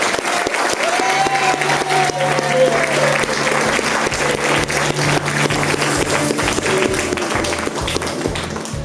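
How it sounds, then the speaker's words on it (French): A church congregation at a special baptism service applauds steadily, a dense continuous wash of clapping from a full room that holds at even loudness, with faint voices underneath. "Est-ce qu'on peut les applaudir maintenant?"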